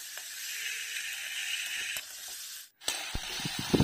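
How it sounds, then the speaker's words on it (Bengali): Shredded cabbage sizzles steadily in a hot pan while being stir-fried, a continuous hiss broken by a brief pause and then sharp clinks and scrapes of a spatula stirring near the end. "এভাবেই নাড়াচাড়া দিয়ে বাঁধাকপিটা আর অল্প সময় ভাজবো।"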